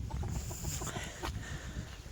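Pekin and Brahma chickens clucking close by, with young wheaten roosters among them; low, steady barnyard murmur and a brief louder call midway, no talking.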